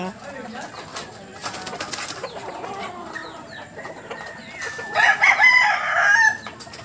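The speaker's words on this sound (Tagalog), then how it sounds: "Ito yung mga malalaking manok na." Roosters crow over a clucking flock, with a louder crow rising near the end amid background bustle and faint voices.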